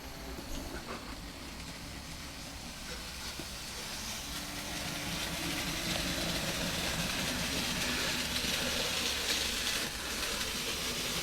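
A Dapol N gauge BR Standard 9F model locomotive runs light engine on a test track, giving a steady close whirr and rail rumble that builds slightly, with a small lurch over the points.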